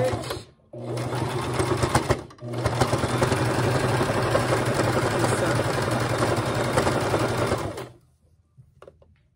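A sewing machine runs at steady speed while backstitching fringe onto a shirt, a loud close whirring rattle broken by two brief pauses before stopping near the end.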